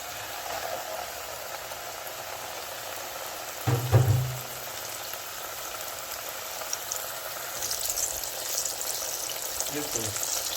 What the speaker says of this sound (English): I'm going to deep fry this, and I have in a pan put 2 cups of oil, which is getting hot, and I'm going to fry this.